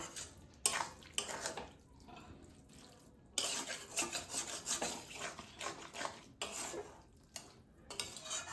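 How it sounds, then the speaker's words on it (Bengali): A spoon scrapes and rubs against a pan while paneer bhurji is served out, with short rasping scrapes broken by brief pauses, close and fairly quiet, no talking. "এবার আমি সার্ভ করে নেব"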